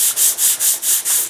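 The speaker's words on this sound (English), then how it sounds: "I'll find a sanding block and we'll just gently sand this guy down." A sanding block rubs back and forth over balsa wood on a 1/8A rocket glider model, six even strokes in a steady rhythm, close and fairly loud with no talking.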